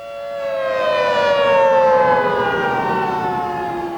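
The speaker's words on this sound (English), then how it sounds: "In Leonardtown, air raid sirens don't mean incoming missiles." A civil defense air raid siren in Leonardtown wails loudly in a long, sustained tone that slowly slides downward in pitch, with no voices over it.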